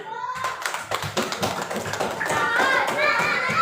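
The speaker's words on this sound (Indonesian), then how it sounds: "Oke, benar jawabannya tapi kurang 2. Tepuk tangan." Classroom students clap their hands together, starting as a few sharp separate claps that quickly build into a loud, rhythmic group clapping, with children's voices chattering underneath.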